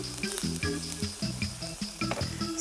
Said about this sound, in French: vous retournez les noix de Saint-Jacques qui sont tout juste dorées, vous voyez. Voilà, et vous terminez la cuisson